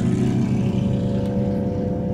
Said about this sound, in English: people out riding the motorcycles, so got some background noise